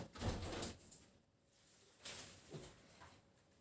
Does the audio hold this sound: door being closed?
yes